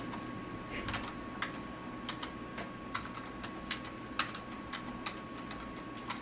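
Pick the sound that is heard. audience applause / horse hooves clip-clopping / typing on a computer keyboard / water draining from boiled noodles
typing on a computer keyboard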